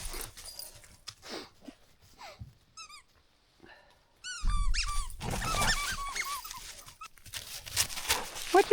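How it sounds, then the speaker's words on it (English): Dogs playing with a squeaky toy indoors, with repeated high squeaks in quick bursts, some sniffing and shuffling, and a person's voice talking over parts of it. "Look at these dogs, guys."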